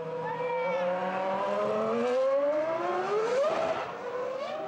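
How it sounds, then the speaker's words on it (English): A Sauber C22 Formula One car runs along the closed King Faisal Highway in Manama, its engine screaming loud and close as the pitch climbs through gear changes, with a big crowd murmuring underneath. "19-year-old Swiss Neil Jani, powered up and down the closed section of public road."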